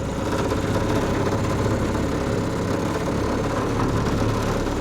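Small Mercury 2.5 hp two-stroke outboard motor running steadily after a restart, a continuous close, loud buzzing drone with a constant rough rattle and no voices over it.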